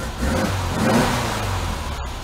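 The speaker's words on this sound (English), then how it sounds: "Car's kind of loud in the garage." The engine of a 1966 VW Fastback runs loudly inside a garage, a close, steady mid-pitched drone with a slight swell in revs near the middle.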